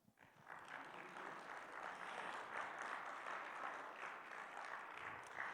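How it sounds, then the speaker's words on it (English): A live audience gives a round of applause, rising quickly from a quiet start into a sustained, even patter of many hands clapping, fairly faint and at a distance. "Round of applause."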